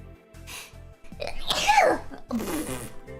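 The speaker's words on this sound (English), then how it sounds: "I have to sneeze. Wait." One close, forceful sneeze, with a brief inhale building into a loud explosive burst and a trailing breathy release, over faint background music.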